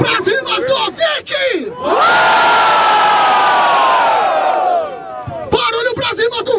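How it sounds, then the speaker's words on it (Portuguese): A crowd at a rap battle final in Barueri, São Paulo, roars with loud sustained cheering and shouting for several seconds, with a voice over a microphone before and after. "Barulho pra cima do Vic"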